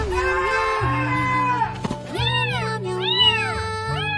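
A cat on a played clip, a pet that walked through mud, picked up parasites and vomited on an operating table, meows loudly in a string of drawn-out, rising and falling calls, close and clear, with no speech.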